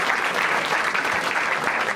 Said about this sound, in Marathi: एकदा या दोघांसाठी टाळ्या वाजवा